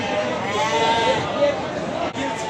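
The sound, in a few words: sheep bleating at livestock market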